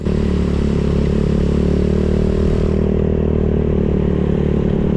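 A motorcycle rides a mountain road toward Mt. Malico in Pangasinan, its engine a loud, steady, close drone with a rattling, clattering edge that eases slightly partway through. No one speaks.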